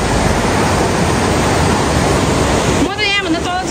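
A dangerous, rushing mountain stream roars loud and close in a constant dense torrent, and near the end a voice briefly speaks over it.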